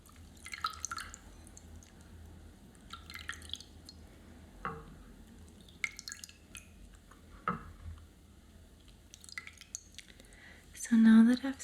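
Water drips from freshly soaked fingernails in a quiet, close setting, giving sparse, soft, crisp drops and small clicks spaced a few seconds apart, then a brief louder sound at the end.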